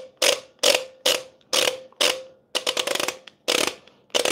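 Aluminum-on-aluminum ratcheting clicks as a portafilter locks into a Quick Mill Super Quick espresso machine: a close series of sharp mechanical clicks in short bursts, some rapid rattling runs, no talking.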